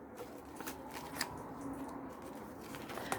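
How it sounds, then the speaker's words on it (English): Scissors snipping paper to shape a folded scrapbook pocket with flaps, soft quiet cuts and rustling close by, with a few sharper snips scattered through. "Then I cut little dibs in there, cut away this where I'm going to fold in to strengthen the pocket."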